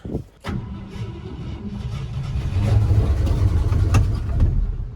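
An old Ford F-100 pickup that has sat for years idles roughly after a brief start, then its engine note swells and holds steady as it is shifted into gear, close by and loud with no one talking.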